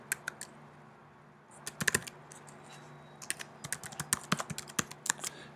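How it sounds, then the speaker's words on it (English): Typing on a computer keyboard: two bursts of quick, light key clicks, sparse at first, then a denser irregular run of taps, close and clear with a faint steady hum underneath. "And then you type in your password."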